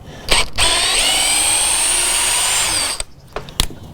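A power drill whirs steadily for about two and a half seconds, backing a worn screw out of a door reinforcement plate, with short clicks and handling noises before and after.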